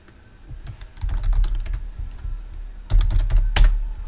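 Someone types a sudo command on a computer keyboard in two quick bursts of close, clicky keystrokes separated by a brief pause.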